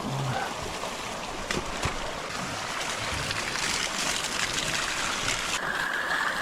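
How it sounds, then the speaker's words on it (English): Hot spring water pouring from a hose down a hillside, a steady broadband rush and trickle of flowing water, moderately close, with no speech. "there's a hose over there bringing hot water down the hill"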